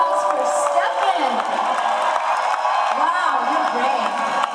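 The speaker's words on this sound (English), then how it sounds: "And so Ladies and gentlemen, a big round of applause for" A live comedy audience claps, cheers and whoops for a volunteer brought up on stage, a loud, continuous crowd roar with a voice speaking over it.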